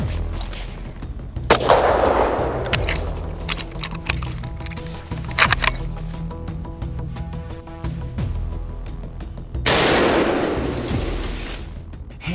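Heavy rifle fired at a charging bear: two loud, booming shots with a long rumbling tail, about eight seconds apart, over a steady musical background.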